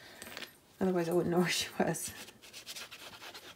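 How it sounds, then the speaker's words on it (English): A dog's metal chain jangling and clinking as she walks around, bright rattling bursts close by, heard under a woman's speech. "Her chain makes a lot of noise when she's walking around,"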